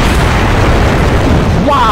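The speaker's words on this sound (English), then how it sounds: "Thank you, Cyber Assault, for nuking for no reason" A nuke goes off in a video game as one loud, sustained booming roar that fills the whole stretch, with a rising electronic whine near the end.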